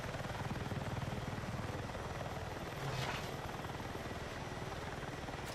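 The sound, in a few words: military helicopter with TOW missiles in a video game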